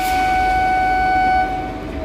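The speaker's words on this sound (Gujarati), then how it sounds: "રેડી થઈ જાઓ ડિપાર્ચર હોર્ન માટે" A train's departure horn at Maliya Miyana Junction sounds as one long, loud, steady tonal blast that fades slightly toward the end, over low rumbling station ambience.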